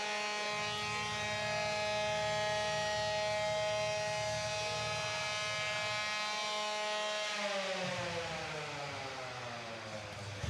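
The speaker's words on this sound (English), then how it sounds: "The noise of the weapon." A spinning weapon on a combat robot at an NHRL event whines as one loud sustained tone over a low rumble, then drops in pitch near the end as it spins down.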